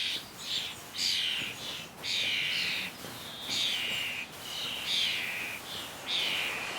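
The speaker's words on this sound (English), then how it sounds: "a flock of starlings brought the kids over for a feast" A flock of starlings raiding garden feeders, with repeated bursts of chattering, squawking calls coming in close, loud waves over a steady outdoor background.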